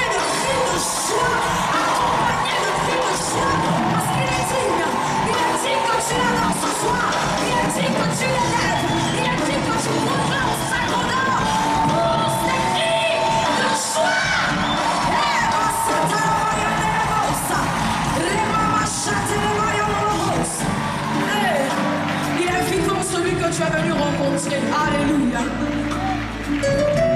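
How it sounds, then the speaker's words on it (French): A gospel concert crowd in a Paris-area venue cheers and shouts for joy, a loud, continuous roar of voices, whoops and yells lasting throughout, dense and close with occasional bangs. "une offrande d'acclamation accompagnée de cris de joie"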